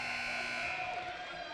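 A men's college basketball game-ending horn sounds at a halftime buzzer beater, a loud sustained buzzing blare lasting over a second and fading slightly, with crowd noise faintly behind.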